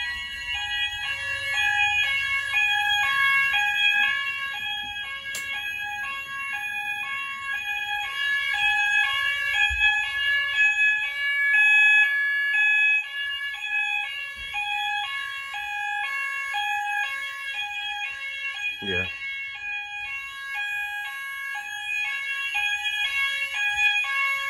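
An Apollo XP95 fire alarm sounder base sounds continuously, a loud steady warbling electronic tone that alternates between pitches throughout, with a faint bump partway through.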